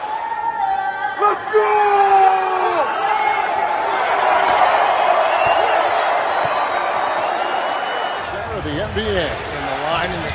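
Excited basketball arena crowd during a Clippers–Lakers game, a steady roar of voices with whoops and yells swelling through the middle, with a commentator talking over it.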